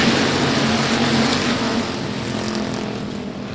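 Factory stock race cars roar around the I-37 Speedway track at a green-flag start, a dense, loud, continuous engine drone that eases slightly as the pack moves off, with no talk.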